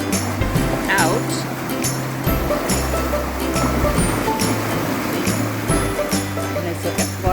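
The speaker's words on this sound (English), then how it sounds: "And as the water's flushing out, the boat's going down" Water rushes and churns steadily as it drains from an Oxford Canal lock while a narrowboat sinks with the level, with a low engine-like hum and voices talking over the flow throughout.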